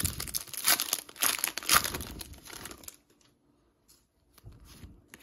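Pokémon 151 booster pack wrappers ripped open close up, with about three seconds of busy crinkling and tearing foil, then near silence broken by a few soft rustles.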